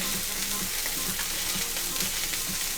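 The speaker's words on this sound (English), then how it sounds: "these are going to be getting that nice golden brown sear." Seafood sears in a hot pan with a steady, dense sizzle and faint crackling pops, close and continuous, with no talking.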